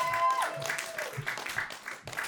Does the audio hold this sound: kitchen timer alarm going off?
no